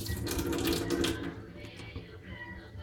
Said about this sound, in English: All right, water's warm, not cold, not hot. We're just gonna rinse this off, just like this.